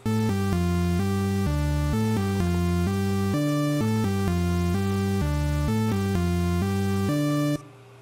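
A steady, rhythmic music track made in LMMS with repeating chords plays loudly and evenly, then cuts off near the end with only a brief, short reverb tail.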